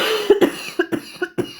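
A woman coughs repeatedly in a kitchen while cooking, a series of about seven sharp, close bursts in an uneven rhythm with brief gaps between them, and no talking.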